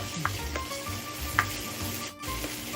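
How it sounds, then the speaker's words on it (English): Onions sweat in olive oil in a pan, a quiet, steady sizzle with a few light utensil clinks and stirs, heard close and without voices. "We get these onions all nice and sweated up here"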